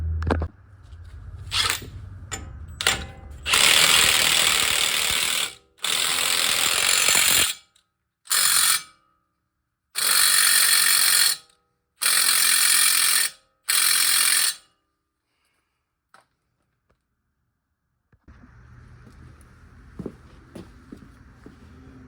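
A ratchet wrench turns a nut on a Dodge Ram control arm, its rapid clicking coming in loud bursts of several seconds separated by pauses, with quieter rustling and shop handling sounds at the start and end.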